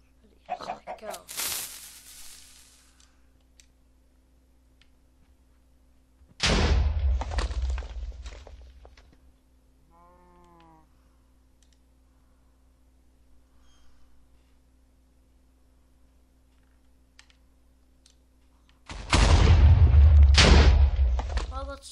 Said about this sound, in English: I've showed you this giant TNT castle I made, and I am going to blow up.